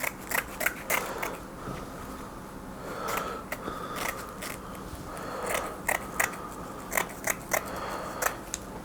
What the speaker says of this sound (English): I'm just going to cut that away